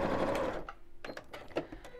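A sewing machine runs in short stitching bursts as orange thread is sewn along a crease, a soft mechanical whir that starts steadily and then breaks into brief uneven stops and starts, fairly quiet.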